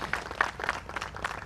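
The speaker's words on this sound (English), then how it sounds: "please give him a round of applause for making this possible" Audience at an outdoor ribbon-cutting and valve-turning ceremony giving a short round of scattered applause, moderately distant and fairly quiet.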